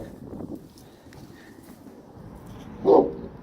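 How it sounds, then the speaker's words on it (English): A dog in a home garage lets out a single loud bark near the end, after a stretch of quiet background noise and faint movement. "Why are you barking at me?"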